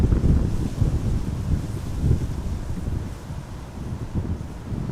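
Gusty wind at Amsterdam Schiphol airport buffets the microphone in low, rolling surges that rise and fall over a few seconds; no voices.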